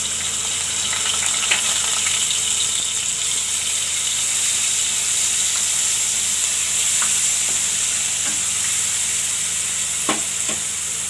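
Cumin, asafoetida, ginger, chilli and garlic sizzle in hot oil for a potato and cowpea curry, a loud, continuous frying hiss with a few faint clicks of stirring.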